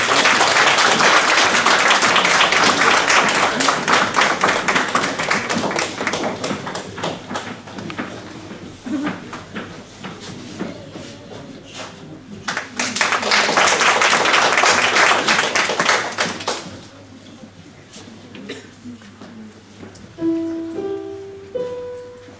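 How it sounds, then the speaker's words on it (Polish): An audience claps warmly to welcome a choir from a Jewish community at a Hanukkah celebration in Konstancin-Jeziorna, with two sustained bursts of dense applause separated by a lull, then a few faint tones at the end. "powitajmy ich gorącymi klaskami"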